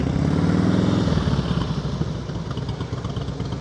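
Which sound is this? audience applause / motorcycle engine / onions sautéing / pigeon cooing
motorcycle engine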